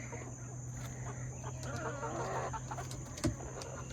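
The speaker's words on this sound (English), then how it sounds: "we got the roosters, chickens roosting. They're already up there." Chickens and roosters settled on their roost give soft, scattered clucks over a steady background hum, fairly quiet and close, with one brief louder knock near the end.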